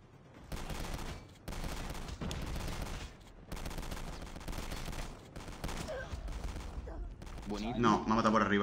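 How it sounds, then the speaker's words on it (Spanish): Rapid bursts of burst-fire shotgun blasts in the mobile shooter Call of Duty Mobile, loud and close, spaced across several seconds with brief gaps between volleys, ending in a busier stretch of game effects. "esta escopeta es una escopeta de ráfaga"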